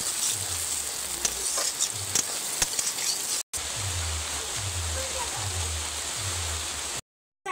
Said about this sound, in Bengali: আবারও বেশ কিছুক্ষণ নেড়ে নেব, তারপর আমি গুঁড়ো মশলাগুলো দেবো।